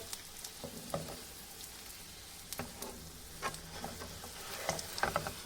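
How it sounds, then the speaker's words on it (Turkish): Zarf böreği, a thin envelope pastry, fries and puffs up in a hot pan, with a soft continuous sizzle broken by scattered close pops and crackles, and no voices. "güzelce hafif böyle kızarmasını bekliyorum. Evet gördüğünüz gibi harika bir şekilde şöyle kabararak pişiyor"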